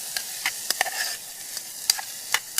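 Onions fry in a pan for a camp-cooked aloo gobi, a steady bright sizzle broken by light scraping and clinking as the pan is stirred at intervals.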